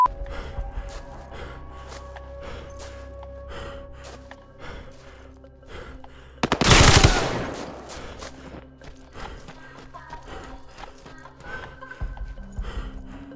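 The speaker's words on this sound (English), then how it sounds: "I don't know where that other shot came from." Gunfire in the tactical shooter Ground Branch on a 747 airplane map: one loud, sharp report sits in the middle of an ambient game soundscape, with no other clear shots heard.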